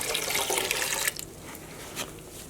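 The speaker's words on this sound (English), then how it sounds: "I'm gonna pour in that pre-soak that had 3 tablespoons of white vinegar." Vinegar pre-soak water is poured into a yarn dye pot, a loud gushing splash for about a second, then a few drips and small sloshes.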